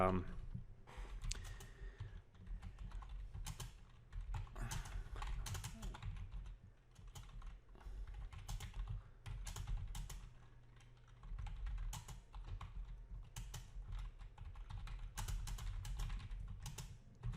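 Computer keyboard typing in quick irregular bursts of clicks, moderately close, running under a voice talking over low background hum.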